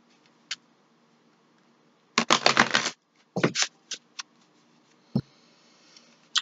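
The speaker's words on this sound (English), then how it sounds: "Just going to give this a couple shuffles." A deck of tarot cards is shuffled up close, a dense riffling burst followed by several sharp card taps and flicks in a quiet room.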